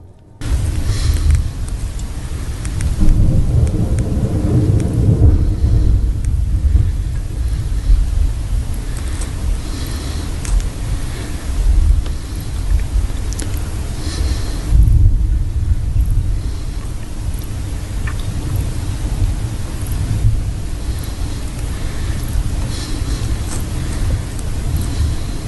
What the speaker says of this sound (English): The tornado slams